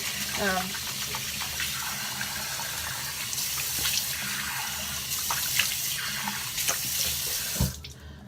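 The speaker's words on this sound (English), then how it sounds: "That's the water running." Tap water runs steadily into a sink, a continuous splashing hiss with small clinks, stopping abruptly near the end.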